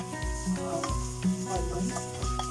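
Enoki mushrooms and onion sautéing in a pan: a continuous sizzle broken by regular scraping stirs, about five strokes in quick rhythm, close and clear.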